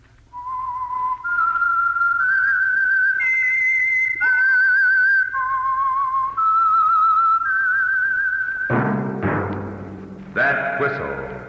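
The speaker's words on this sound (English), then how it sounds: "That whistle is your signal for the Signal Oil Program" A person whistles a clear, sustained melody, bright and close, ending with a brief burst of louder broadband sound.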